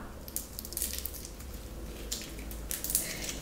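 Close-up ASMR squishing and mixing of several store-bought slimes, some pink and teal: soft wet pops, clicks and sticky squelches repeat irregularly over a low steady hiss.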